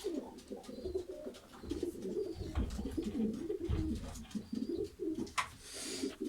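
Homing pigeons coo softly in a loft, with low, repeated throaty calls that overlap one another at a gentle, moderate distance and no talking.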